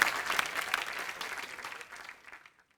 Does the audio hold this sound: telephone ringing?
no